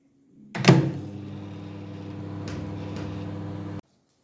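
A microwave oven heating potatoes starts with a clunk, then runs with a steady low hum for about three seconds before cutting off abruptly.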